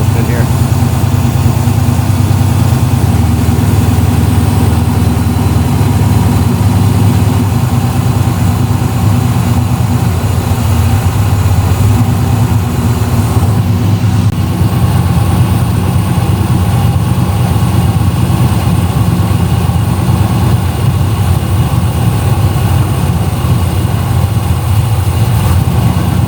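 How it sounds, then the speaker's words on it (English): A vehicle engine idling, a loud, close and steady low rumble that holds unbroken for the full length, with talk mixed in. "gotta make sure the idle's good here."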